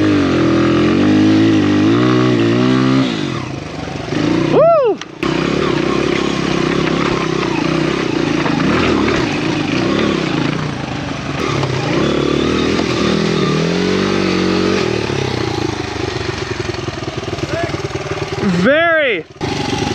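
A dirt bike engine revving hard while riding through deep, mushy snow, loud and close with rising and falling throttle surges, brief drops as the engine cuts out, and a few short bursts of whine.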